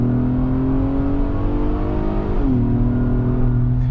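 A 2022 Acura MDX engine drones steadily as it accelerates, pitch briefly dipping at a gear change before climbing again; heard from inside the vehicle.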